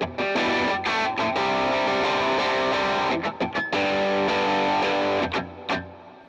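A distortion effect on a Line 6 HX Stomp, voiced like a Boss Super Overdrive, drives an electric guitar: loud, thick, sustained chords with brief gaps between strummed phrases.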